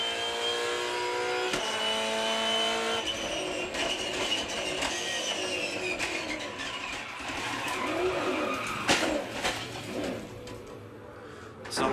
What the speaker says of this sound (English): Listen to this when he gets up here on the oil.